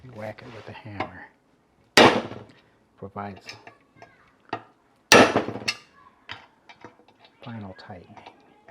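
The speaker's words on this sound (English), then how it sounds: "you whack it with a hammer" A hammer strikes a manual impact driver during the final tightening of a valve cover bolt, giving two loud sharp metallic whacks several seconds apart. Someone talks between them.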